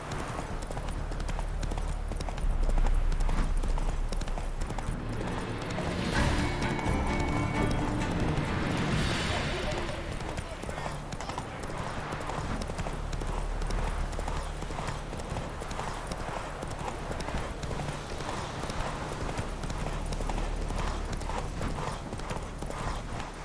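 A horse trots in The Witcher 3, its hooves clip-clopping in a steady, continuous rhythm throughout, with a few louder swells of game ambience partway through.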